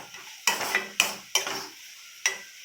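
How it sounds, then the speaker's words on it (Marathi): Onions frying in a pan for paneer masala, four sharp stirring scrapes of a spoon over a soft sizzle, close by, each stroke fading quickly, with no talking. "छान फ्राय करून घेऊया कांद्याला"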